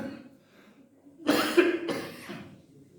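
A few harsh coughs burst out close by, followed by a quieter throat-clearing rasp, with faint murmuring before them, during a dawn Ramadan sermon.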